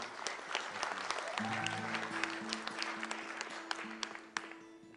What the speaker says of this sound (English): Big round of applause for our tech crew.